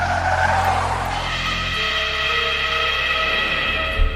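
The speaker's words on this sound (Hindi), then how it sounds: "तभी ड्राइवर जोर से ब्रेक लगाता है।" A truck on a deserted village road brakes hard, a sustained screeching tire skid that holds steady and loud for several seconds before fading, with engine rumble underneath and no talk.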